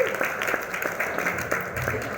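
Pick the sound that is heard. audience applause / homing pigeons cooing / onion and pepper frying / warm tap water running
audience applause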